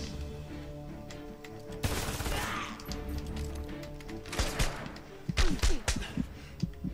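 Diablo gun in the Homefront video game firing repeatedly in bursts, with loud rapid shots, impacts and crashes layered over a steady background hum.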